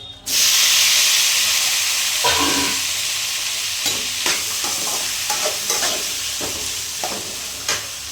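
Tomatoes tipped into a pan of hot oil after dried red chillies were fried out, bursting into a loud, sustained sizzle that slowly eases, with repeated spatula scrapes and taps throughout and no talking.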